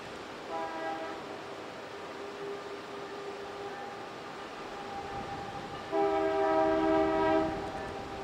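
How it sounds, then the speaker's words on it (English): Canadian Pacific locomotive 9727 leads a loaded coal train through southern Alberta, sounding two long multi-tone horn blasts over a low, steady rail rumble from moderate distance, with no voices present. "Canadian Pacific 9727 is leading Coal Train 816."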